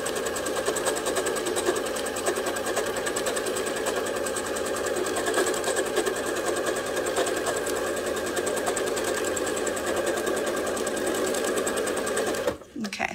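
A sewing machine runs steadily in rapid, even stitching during free-motion quilting, holding a constant close hum for several seconds before stopping abruptly at the end.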